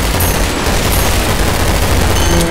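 Dense, continuous gunfire from a Vindicator in a video game, loud and saturated, the shots running together into a constant roar for the whole stretch.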